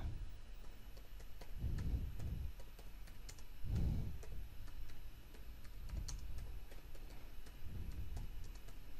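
Computer keyboard typing comes as soft, quiet clusters of clicks spread through the stretch, under low background noise and without speech.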